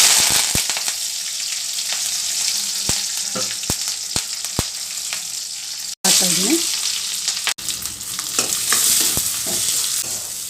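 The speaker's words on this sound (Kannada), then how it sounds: "ಎಣ್ಣೆ ಕಾದಿದೆ ಸಾಸಿವೆ ಹಾಕ್ತಾಯಿದ್ದೀನಿ ಕರಿಬೇವು" Mustard seeds and curry leaves crackle and sizzle in hot oil in a home kitchen pan, a loud, steady hiss broken by sharp pops and spits, with two brief dropouts.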